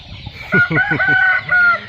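Chickens on a Thai farm give a close, loud burst of rhythmic clucking and crowing, several calls in quick succession with no talking.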